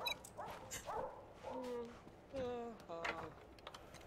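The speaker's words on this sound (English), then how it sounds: "Stupid dog." Dog in The Sims 2 video game giving a series of short yips, whimpers and barks, fairly quiet and spaced irregularly across the clip.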